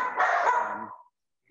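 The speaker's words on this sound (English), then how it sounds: "Sorry, that's my dog." A dog lets out one sustained, loud, howling bark that trails off and stops, with nothing else audible.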